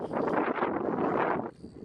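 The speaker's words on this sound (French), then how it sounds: "Oh non, face au vent." Headwind buffets the microphone of a cyclist riding through the South Korean countryside, a loud, rough roar that cuts off abruptly near the end, leaving faint background hiss.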